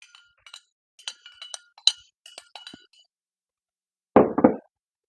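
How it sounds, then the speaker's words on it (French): A spoon stirs a remedy solution in water inside a glass, giving a string of bright, close metallic clinks and taps that are irregular and fairly light, followed by a brief louder scraping clatter near the end. "On va juste mélanger la solution."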